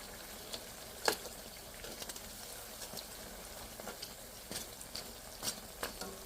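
Jilapi made with mashkalai dal frying in oil, a quiet low sizzle with scattered clicks and light ladle taps at irregular intervals.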